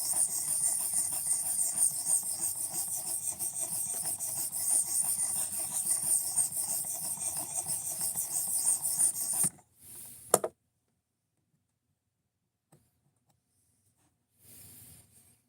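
A knife blade scrapes on a whetstone in steady, rhythmic rasping strokes for about nine seconds, then stops, leaving near silence broken by a few brief taps and a short final rub.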